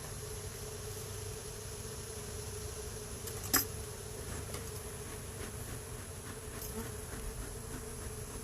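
Honey bees hum steadily around an open hive frame being lifted for inspection, a soft continuous drone with a brief knock partway through and no talking.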